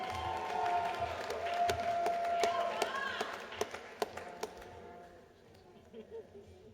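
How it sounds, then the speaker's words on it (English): Commencement ceremony audience applauding Master of Education graduates, scattered claps and cheers over voices and music that taper off into a few lone claps and faint chatter. "Can we please have a round of applause for our Master of Education graduates?"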